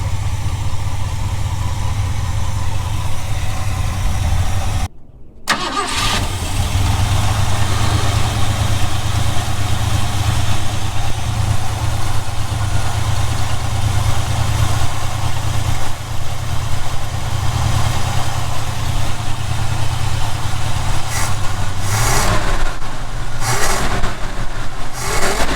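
A Ford F350 truck engine, long left unfinished, idles steadily and loudly from close by after a blown exhaust, holding a smooth continuous drone with one brief dropout early on and a few revving swells near the end.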